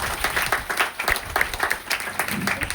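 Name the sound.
applause from an audience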